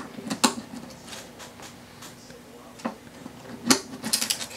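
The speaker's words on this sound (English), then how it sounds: "pop these bridge pins out" Bridge pins being popped out of an acoustic guitar with a string winder: a few sharp, separate clicks and pops spread over several seconds, close by, with faint handling noise between them.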